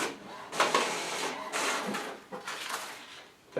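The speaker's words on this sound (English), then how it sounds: "Pull the paper in. It's printing." A Wi-Fi printer whirs and clunks as it feeds paper, then runs in several bursts of mechanical printing noise with short pauses, close by.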